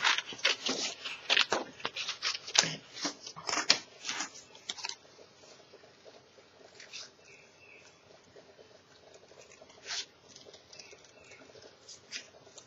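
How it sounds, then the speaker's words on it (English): Scissors cutting paper for scrapbooking, crisp snipping and rustling close by, busy for the first few seconds then thinning to sparse, lighter cuts and paper handling. "And then using my scissors,"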